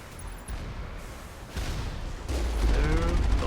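Gunfire from turrets and snipers strikes the thinly armored Mako vehicle in Mass Effect, with bursts of impacts building into a louder, sustained rattle near the end.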